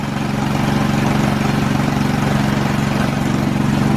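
A pneumatic impact tool runs steadily on engine bolts of a 2003 Nissan Maxima GLE with a 3.5-litre engine during a partial rebuild, a continuous close, loud droning hum with a low pulsing rattle throughout.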